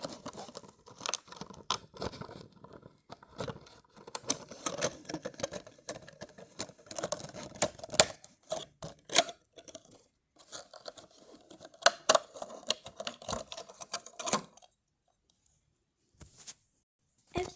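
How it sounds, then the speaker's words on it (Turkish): Plastic and paper packaging for a capybara-themed pencil sharpener is torn and crinkled open close up. Quick rustles and sharp rips come in irregular bursts over more than ten seconds, then fade to a few faint rustles near the end. "İlk olarak bir tane böyle e, kapibaralı kalem tıraş gibi bir şey açtım."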